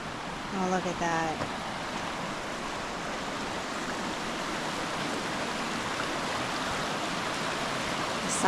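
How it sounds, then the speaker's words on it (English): Sinclair Falls in the Canadian Rockies, a small waterfall at the foot of a mountain, rushing in a steady, full roar that runs throughout, with a brief voice near the start. "it's like a nice little rushing waterfall just nestled at the bottom of this mountain."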